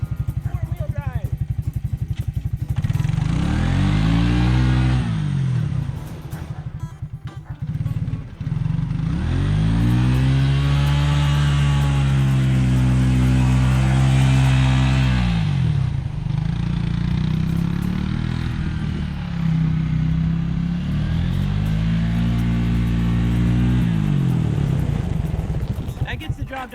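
A Suzuki King Quad ATV engine revs and pulls through snow in repeated rising and falling surges, loud and close, switching between two-wheel drive, four-wheel drive and differential lock, with a rider talking over it now and then.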